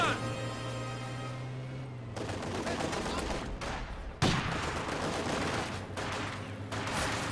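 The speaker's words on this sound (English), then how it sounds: "Now he's aiming for the MG42." An MG42 machine gun fires in a strategy video game, with bursts of rapid gunfire and heavy impacts crashing through a loud, continuous battle din.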